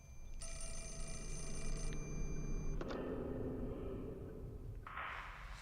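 A telephone rings in the Fatal Frame: Mask of the Lunar Eclipse video game: a bright, steady electronic ring for about two seconds, then a brief second tone, over a low, constant ambient drone.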